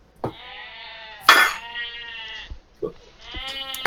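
Sheep bleating in a series of wavering, nasal calls, several loud bleats with short gaps between them, fairly close and clear with no talk over them.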